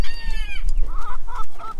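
Several chickens cluck close by, a drawn-out crowing call at first, then short repeated clucks.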